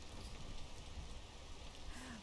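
Steady rain falls in the video game PEAK, a faint continuous hiss of drops throughout with no talking.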